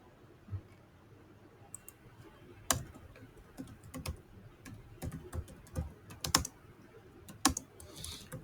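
Computer keyboard typing during a coding lesson, with irregular clusters of sharp, close key clicks and short pauses between bursts, quiet and unaccompanied by speech.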